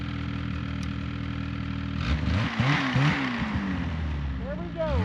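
A Polaris snowmobile engine idles steadily, then revs and climbs in pitch as the machine goes up and over a hill, with several rising surges near the end; a voice is heard under the engine.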